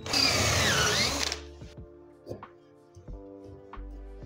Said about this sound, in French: Là, on va percer un peu plus sérieusement quand même.